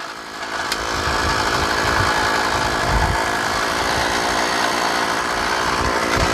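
A gas engine on a drilling auger runs steadily at a constant rough drone, loud and close, with no talking.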